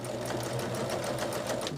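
Sewing machine back stitching table runner pieces, a steady close whir that runs the whole time under a low voice.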